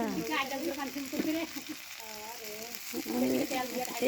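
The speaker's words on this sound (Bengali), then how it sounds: "তেল ঢেলে দিল।" Oil poured into a hot pan, crackling and sizzling steadily in the background while voices talk over it.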